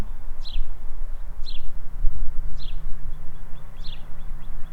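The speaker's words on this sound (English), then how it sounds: "Do you hear the birds chirping?" At a farm, a bird gives four short chirps spaced about a second apart, clear but not loud, over a steady low background rumble.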